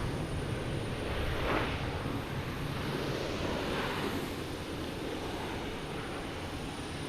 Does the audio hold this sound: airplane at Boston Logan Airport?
yes